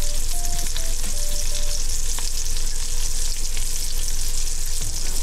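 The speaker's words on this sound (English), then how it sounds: "we got ourselves a fish cooking away" A whole fish fries in a pan, giving a loud, steady, close sizzle that carries on without a break.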